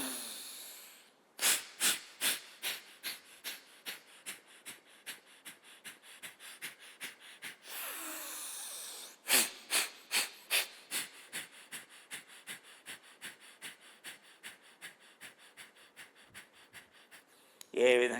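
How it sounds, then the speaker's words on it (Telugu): Bhastrika yoga bellows breathing: two long runs of rapid, forceful, evenly spaced breaths, close and loud, separated by a long hissing breath, with a sharp breath at the very end. "అవిరి భస్త్రిక చేయమని చెప్తున్నాడు"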